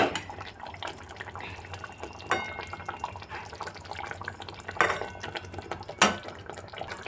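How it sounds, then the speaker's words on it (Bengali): Pan clatter and utensil scrapes as fish pieces are turned over in a pan while cooking coriander fish, with soft sizzling and a few sharper metallic knocks, close and moderately loud with no talking. "এবার মাছগুলো একটু উল্টিয়ে দেব, দিয়ে আবার একটু ঢাকা দিয়ে দেব।"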